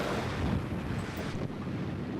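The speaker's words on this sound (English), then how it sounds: "But what about in rougher conditions with more waves, choppy seas, more wind?" Strong wind buffeting the microphone over choppy waves while sailing a boat in rough seas, a steady loud roar with splashing water throughout and no speech.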